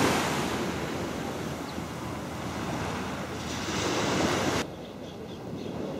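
Ocean waves wash onto a beach on a calm day in a steady, loud rushing surf with a swell near the middle, close by and with no voices.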